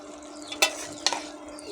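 Whole garam masala, bay leaves and five-spice seeds fry in hot oil, a soft close sizzle broken by two sharp scraping clicks of a stirring utensil against the pan; no voices.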